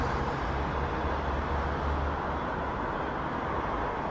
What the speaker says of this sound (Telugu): ఏంది బ్రో ట్రాఫిక్ అలా ఉంది?